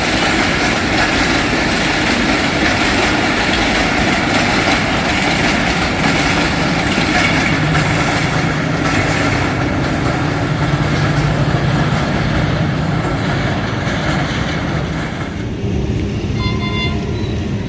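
Shalimar Express train 8220 passing the outer signal near Badami Bagh in Lahore, Pakistan, a loud close continuous rumble with rail clatter that lasts throughout and eases slightly near the end, with no talk.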